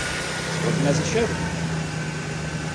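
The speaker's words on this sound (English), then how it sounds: "It's your engine running." Steady low hum of an idling 2000 Toyota Tacoma engine, close and even throughout, with a few spoken words briefly over it.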